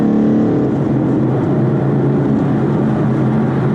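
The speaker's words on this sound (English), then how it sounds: "But as soon as I downshift, watch, I'll do this." A Ford Mustang 5.0 with a Corsa exhaust revs on a downshift to around 4,000 RPM, a loud, steady engine drone heard from inside the car, settling slightly after the first half second and holding.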